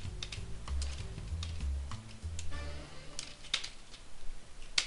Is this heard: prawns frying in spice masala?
no